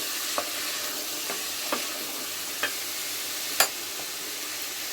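Mixed vegetables (yardlong beans, peas, pointed gourd, potato and chopped onion) stir-fry in oil with a constant low sizzle, while spatula clicks land about once a second, the last one louder.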